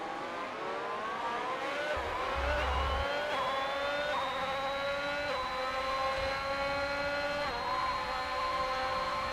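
Formula 1 race cars from F1 2021, a McLaren and a Ferrari, whining at high revs with rising gear-shift sweeps, one engine screaming close and steady while another's pitch climbs and steps through upshifts.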